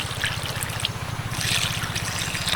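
Water trickles and splashes onto freshly picked drumstick leaves being washed, a light continuous pour with a faint low hum underneath.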